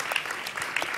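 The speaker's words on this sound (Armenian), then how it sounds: "բարձր ծափարում ենք Էրիկ եւ Մարիա" An audience applauds a dance couple at a Dancing with the Stars gala, a dense, steady wash of many clapping hands, loud and sustained for the whole moment.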